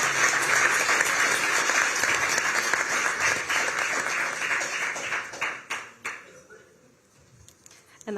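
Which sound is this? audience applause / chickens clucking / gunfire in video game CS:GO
audience applause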